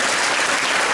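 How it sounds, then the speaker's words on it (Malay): A dense, loud wash of audience applause fills a seminar hall during a motivational business talk, steady and unbroken for a short burst. "Jadi kita berikan tepukan kepada semangat angsa laut."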